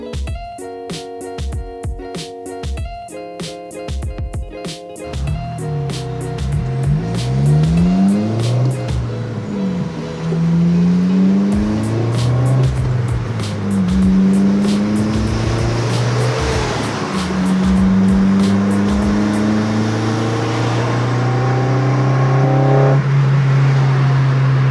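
A Honda Civic Si with VTEC cruising with windows down on a summer drive, its engine climbing in repeated rising revs through the gears, loud and close from inside the cabin, with brief dips at each shift.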